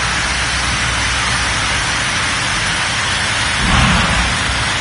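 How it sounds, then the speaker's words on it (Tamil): Steady rain falls in Chennai, a loud, dense hiss of drops on surfaces that swells briefly near the end, with no talking. "சென்னையின் பல பகுதிகளில் இன்றைக்கி மழை பெஞ்சிருக்கு"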